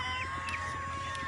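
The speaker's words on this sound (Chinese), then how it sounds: "鸡鸣而起，闻鸡起舞。" Chickens cluck and call on a Guangxi poultry farm in the early morning, a steady mix of bird calls close by, set against a constant hum.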